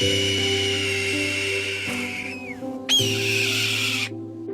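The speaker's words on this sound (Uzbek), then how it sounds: "Qizil dumli lochin. Bu ovozni sizlar ko'proq kovboylar haqida kinolarda eshitgansizlar." A red-tailed hawk gives a harsh, descending scream, sounded twice over a few seconds. The calls are fairly loud and sit over a steady tonal drone in the background.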